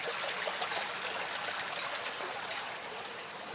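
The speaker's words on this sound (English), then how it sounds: "A feeder stream there, trickling away." A small feeder stream trickles steadily into an old lake at first light, a continuous close, even wash of running water with no voices.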